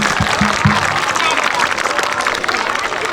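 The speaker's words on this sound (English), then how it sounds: "Give them a big round of applause again." Loud, close applause from an audience honoring a group of Cub Scouts, thick and continuous with a few voices and cheers mixed in early on.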